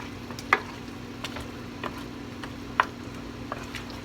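Cheesy corn is mixed in a pan with a low, steady hum and faint sizzle beneath, marked by several light utensil taps and scrapes, one brighter clink standing out.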